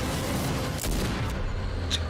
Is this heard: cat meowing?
no